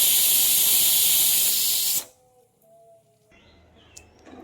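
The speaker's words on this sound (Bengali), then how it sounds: "পরপর 3টে সিটি দিয়ে প্রেসার কুকারের ভেতরে থাকা গ্যাস বের করে নিচ্ছি।" A pressure cooker on a kitchen stove venting its steam after three whistles while cooking brinjal and potato curry: a loud, harsh hiss held for two seconds that cuts off abruptly, followed by quiet faint clinks.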